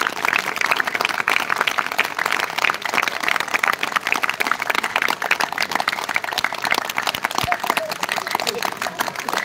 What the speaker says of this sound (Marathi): चला एक जोरात टाळ्या वाजवा